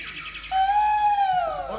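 An Asian koel in a village in Rajasthan during monsoon rain gives one clear, sustained call that slides gently in pitch and stands out close and loud over quiet background.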